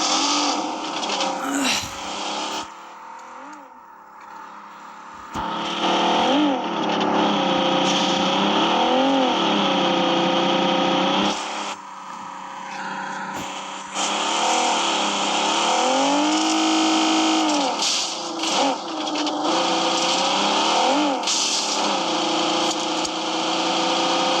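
A car in the video game PUBG Mobile drives steadily with a loud, continuous engine drone that rises and falls as it revs and shifts, and it stays prominent throughout.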